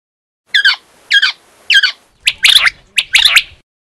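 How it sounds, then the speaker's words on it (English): A quail gives a series of calls: three short, evenly spaced chirps, then three louder, harsher bursts, all close and clear with no talk. "Quail."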